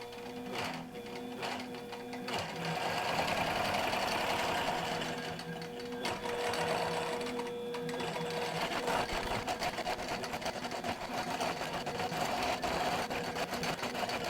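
A QBOT V3 quilting robot drives a sewing machine through overlay quilting, producing a continuous close rhythmic stitching hum with mechanical whirring that runs unbroken throughout.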